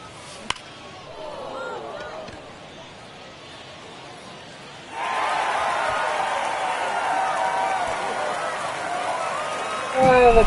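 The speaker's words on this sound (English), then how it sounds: "The crowd reaction is just funny." A stadium crowd in the baseball video game MLB The Show 24 swells from a soft murmur into a sustained roaring cheer midway through, then rises again at the very end, with a voice talking over it.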